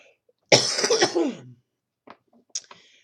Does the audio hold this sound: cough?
yes